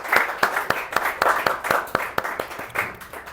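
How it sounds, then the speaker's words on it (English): A small audience claps for a guest speaker after a podcast conversation, a short burst of distinct, evenly spaced claps, fairly close and sparse, with no talk over it. "And round of applause for our speaker today"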